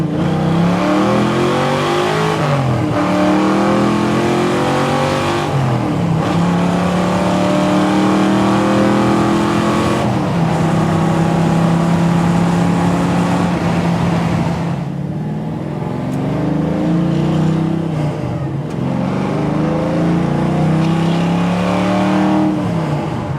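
A 1967 Ford Mustang Fastback cruising in fifth gear at about 70 mph and 2,000 RPM, its engine a loud, close, steady drone that rises and dips in pitch as the throttle shifts, with road roar underneath.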